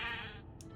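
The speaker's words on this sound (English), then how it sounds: "Oh, a sheep." A sheep in a video game gives a single short, close bleat with a wavering, nasal tone that fades quickly; no speech.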